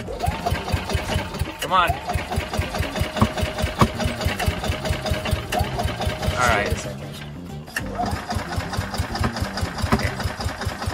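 A golf cart engine cranks and sputters, then runs roughly at a rhythmic, knocking idle close by. It briefly cuts out and restarts while people talk over it.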